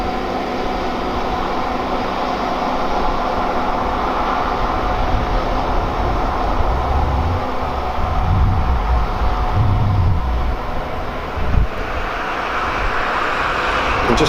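A passenger train rolls by at Kenilworth Junction, a loud sustained rumble and roar of wheels on track that swells slightly near the end, with no talk.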